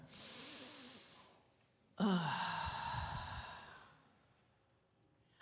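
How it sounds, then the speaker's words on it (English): Congregation at a Sunday service drawing a deep breath together: a long, airy inhale, then a fuller, breathy exhale, then quiet, with no speech. "Let's take another deep breath together."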